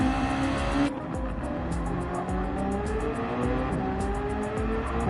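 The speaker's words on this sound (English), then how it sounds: "Look at how he just really throws the car into that corner. That's what you can do with that NSX." A Honda NSX GR2 race car in Gran Turismo 7 at the Sardegna circuit screams through a corner, with a steady loud engine drone, rising revs and some tire squeal, and no talking.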